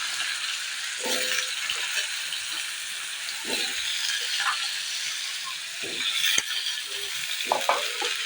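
Cut potatoes frying in hot oil tempered with radhuni and black cumin, a steady sizzling hiss throughout with intermittent soft scrapes and rattles of stirring, close up and without talk.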